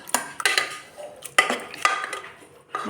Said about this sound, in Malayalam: ഒന്നിങ്ങനെ ഉടച്ചു കൊടുക്കാം